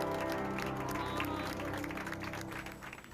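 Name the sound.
applause as a recovered COVID patient leaves the clinic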